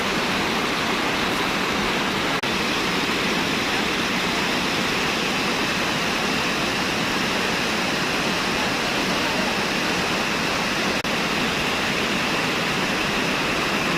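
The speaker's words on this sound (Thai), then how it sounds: "ตาดน้ำตก" Tat Li Phi waterfall roars as a steady, loud, unbroken rush of falling water, dense and close throughout with no voices.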